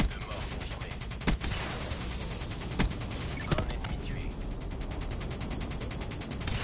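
Continuous dense gunfire in a Black Ops 3 online multiplayer match, rapid automatic bursts filling the whole stretch with a few sharper single shots standing out and game noise underneath.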